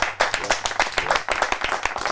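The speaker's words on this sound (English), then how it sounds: "big round of applause sa kanila" A studio audience claps for band members on a podcast set, a close, fairly loud patter of separate hand claps that rises and dips over a couple of seconds with no talking.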